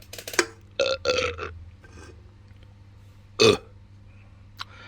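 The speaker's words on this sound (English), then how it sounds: "Quite pleasant on the burp." A man burps after tasting an Eastern European pilsner beer: two short throaty eructations up front, a quieter stretch with faint movement, then a third brief loud burp near the end, close to the mic.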